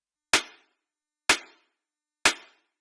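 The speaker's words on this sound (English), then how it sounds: "When you synthesize a snare, is basically a fundamental tone plus some noise" Three separate hits of a synthesized snare drum built from white noise, each a sharp bright burst with a short reverb tail, evenly spaced about a second apart, with no talk.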